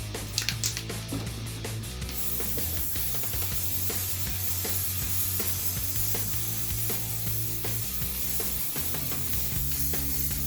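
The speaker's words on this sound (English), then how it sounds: "smoothing off the primer, getting rid of those lumps and bumps that's in the spray paint" Primer is smoothed by hand off the mud guard of a Honda CB750 Custom, a continuous loud rubbing and scraping with a rhythmic back-and-forth texture and no talking.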